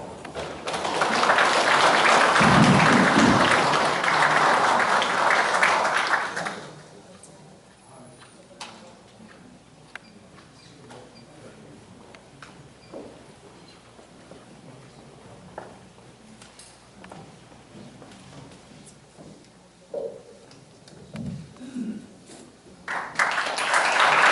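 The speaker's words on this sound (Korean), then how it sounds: "이철우 교수님의 뜨거운 박수로 맞이해 주시기 바랍니다" Audience applause at a regional development seminar in a city hall, a loud burst of clapping for several seconds that drops to a quiet room with scattered small noises, then a brief return of clapping at the end.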